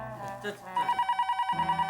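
A telephone rings in a home scene from a comedy series, a rapid pulsing electronic bell that starts partway in and repeats steadily and fairly loud after brief talk and movement.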